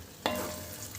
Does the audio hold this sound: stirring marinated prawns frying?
yes